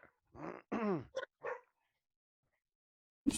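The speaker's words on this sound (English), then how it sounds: "Dog goes barking." A dog's barks and grunting yips come in a short close burst of several calls, then a long silence before one final sharp bark.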